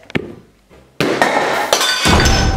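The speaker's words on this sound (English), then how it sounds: "Because there was a loud crash from the kitchen." Glass breaks in a kitchen with a loud, sudden crash, followed by repeated shattering and clinking bursts as pieces scatter, heard alone without voices.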